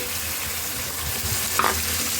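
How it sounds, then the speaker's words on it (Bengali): Loud, close sizzling of chicken frying in a pan with spice paste, with stirring scrapes and a brief clatter near the end; no one speaks. "আমার চিকেনটা একটু ভাজা হয়ে আসছে। এখন আমি আমার রেডি করা মশলাটা দিয়ে দিচ্ছি।"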